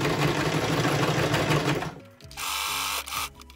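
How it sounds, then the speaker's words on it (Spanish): A sewing machine stitches a fabric strap on a shoulder-bag book cover, running in a loud continuous whir, then stopping and starting again in a shorter burst, backstitching to reinforce the seam. "He cosido otra trabilla, vuelvo para atrás."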